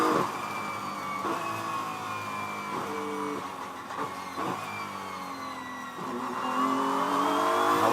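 GT race cars at Sonoma Raceway during a GT World Challenge America race, a BMW pulling hard under power, engines revving through repeated rising gear sweeps, loud and close throughout with no talk.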